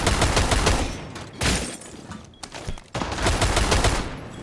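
Dense automatic gunfire from a Rainbow Six Siege match fills the clip in loud sustained bursts, broken by two short lulls before the shooting resumes.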